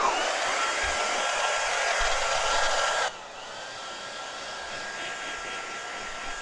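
A handheld hair dryer blows steadily and loudly over wet paint, a broad close whoosh that abruptly drops to a lower setting halfway through and keeps running, with no talking.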